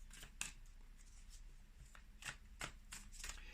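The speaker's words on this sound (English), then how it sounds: "These cards are quite slippery and slick, so I need to shuffle them this way in order to receive" Slippery, slick tarot cards are shuffled by hand in a quiet room, giving several sharp, riffling bursts of card noise separated by short pauses, close and fairly soft.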